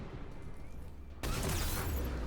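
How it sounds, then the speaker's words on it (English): A sniper rifle shot in the video game Mass Effect 3 cuts in abruptly as a loud, sustained burst of broadband noise, following a quieter background stretch. "Did I just get sniped?"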